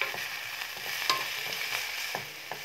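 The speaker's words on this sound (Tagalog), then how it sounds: "Ayan, halo-haloin lang." Tomatoes being sautéed and stirred in a pan: a steady sizzle of frying with soft, irregular scrapes and taps of the spoon against the pan, close up, no voices.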